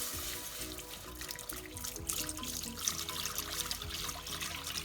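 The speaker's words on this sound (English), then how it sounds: "and then we'll add our hot milk" Hot milk poured into a pan for a three-cheese macaroni sauce, giving a steady close liquid gush and trickle that runs unbroken for several seconds with faint kitchen background.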